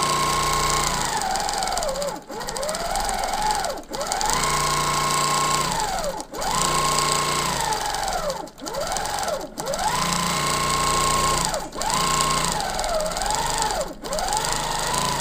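A sewing machine stitches free-motion quilted feathers with a loud, steady mechanical whir. Its pitch rises and falls as the speed changes, and it stops briefly several times before starting again.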